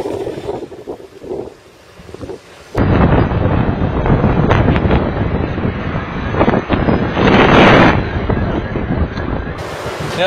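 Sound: strong gusty crosswind blowing

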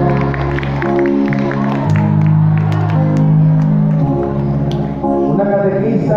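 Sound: applause for Jesus

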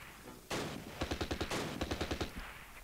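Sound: gunfire in the video game Close Combat

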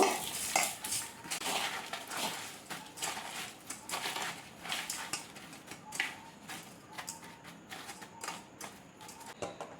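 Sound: mixing sugar into mango pieces in a bowl

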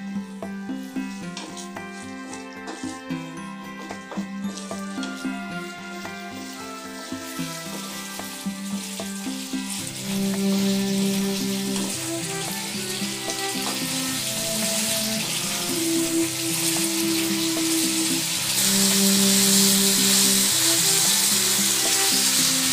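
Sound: tomato ginger pickle boiling in pan

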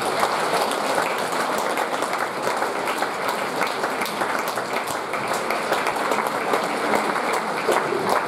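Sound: audience applause at a concert

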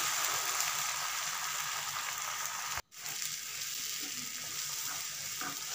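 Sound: beaten eggs with salt and pepper frying in pan

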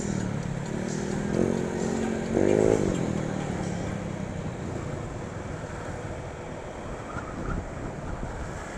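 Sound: motorcycle with open exhaust pipe passing by

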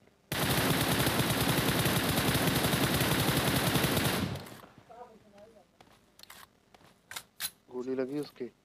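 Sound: gunfire in the video game PUBG

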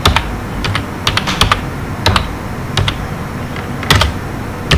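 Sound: typing HTML code on a computer keyboard

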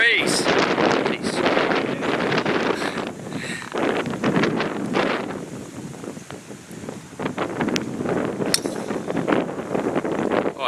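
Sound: wind blowing on a golf course

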